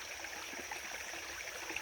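A creek flows steadily nearby in a gold-prospecting area, a continuous soft rush and trickle of water with no voices, even and unbroken across the short stretch.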